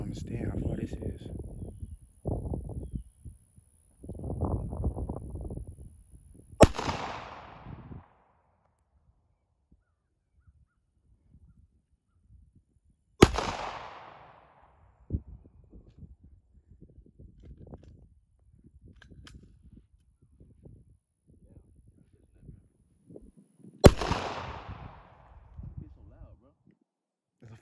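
Glock 30SF pistol fired at a shooting range, three loud sharp single shots with ringing decay spread across about half a minute, with people talking between shots.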